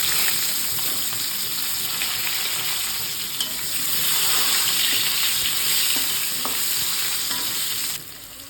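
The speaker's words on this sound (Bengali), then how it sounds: "এবার ওই তেলের মধ্যে আলুগুলো দিয়ে দিলাম" Potatoes sizzling as they fry in hot oil in a home kitchen pan, a steady, loud crackling hiss throughout with occasional stirring clinks, no talking.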